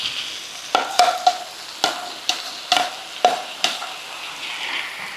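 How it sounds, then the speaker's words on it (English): Pancit bihon rice noodles and vegetables tossed in a hot pan, a series of loud, evenly spaced scraping stirs over a light background sizzle, close and with no voices. "Then we're going to give it a nice toss to mix everything together."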